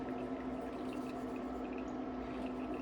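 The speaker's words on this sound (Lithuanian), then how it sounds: "Ir vanduo bėga nuo jo" Water runs off a coticule whetstone during razor honing, a faint, steady trickle with light dripping, no voices.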